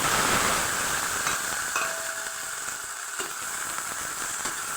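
Tomatoes dropped into hot oil for an eggplant curry give a steady, close sizzle and hiss of frying that holds throughout, easing slightly after the first second, with faint stirring clicks.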